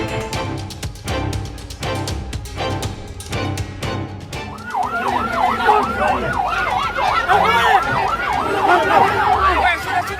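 Ambulance carrying an emergency patient through a carnival route, its wailing siren rising and falling in rapid repeated sweeps that join a busy street din about halfway through, with rhythmic percussion from the carnival heard earlier.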